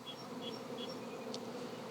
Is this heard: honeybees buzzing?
yes